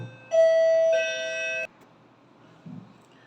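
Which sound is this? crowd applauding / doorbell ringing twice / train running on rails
doorbell ringing twice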